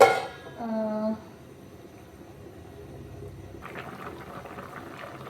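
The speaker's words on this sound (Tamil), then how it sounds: "இப்போ வந்து திரும்ப கொஞ்சம் நேரம் மூடி போட்டு வேக வைக்கிறேன்" Chicken curry with potatoes simmers in a covered pot, with a faint bubbling that rises after a brief quiet spell and continues softly as a low, steady burble.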